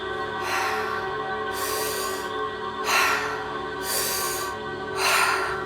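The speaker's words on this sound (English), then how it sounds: "So what that's going to look like, what that's going to sound like is" Deep, slow breaths drawn during a breathwork exercise, resembling breathing through a scuba tank, come as four loud, airy bursts at a steady pace over a low constant hum, with no talking.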